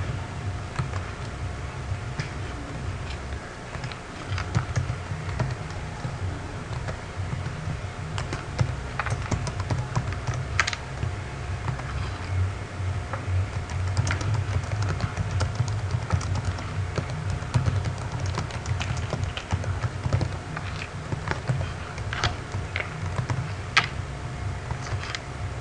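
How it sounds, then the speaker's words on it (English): Someone types HTML code on a computer keyboard, producing a steady stream of soft, close key clicks for about 26 seconds over a low background hum, with no talking. "I start typing my HTML code"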